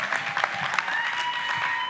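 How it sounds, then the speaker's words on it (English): An audience at the Miss Teenager SA 2024 pageant finale gives a round of applause, a brief, moderately loud patter of many hands with faint voices mixed in. "Round of applause."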